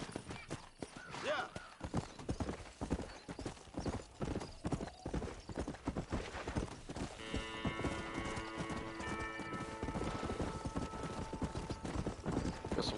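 Steady, rapid clip-clop of horse hooves trotting close by in a Wild West video game, joined later by a sustained musical drone; no talking.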